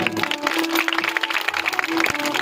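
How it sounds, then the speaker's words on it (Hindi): Crowd applause at a village Bhagavat Katha gathering celebrating Krishna's birth, a busy spread of clapping with a sustained musical tone running underneath, moderately loud. "इनके लिए जोरदार तालियां भाई"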